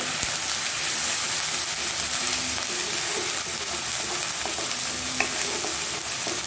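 Onion, ginger and garlic paste sautés and sizzles in a pan, a steady close frying hiss with occasional stirring scrapes and small pops running throughout, with no one talking.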